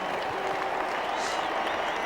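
A large crowd of football supporters at the 1995 WAFL Grand Final between West Perth and Subiaco applauds and cheers in a steady, dense roar of clapping that fills the whole moment without a break.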